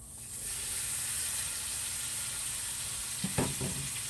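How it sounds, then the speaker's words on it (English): Hillshire Farm smoked sausage sizzles steadily while browning in a skillet, a constant frying hiss with a couple of brief stirring clatters near the end. "I'm just going to brown this a little bit in the skillet"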